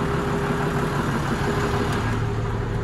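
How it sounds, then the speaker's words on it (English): A classic tractor engine idling close by, a smooth, steady low throb with a constant hum and no voices. "just listen to how sweet that engine sounds."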